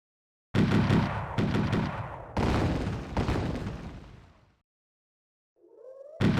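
Machine gun fire in a Command & Conquer video game comes in several loud, abrupt bursts of rattling shots with brief cut-offs, falling silent before a fainter sound and another burst at the end.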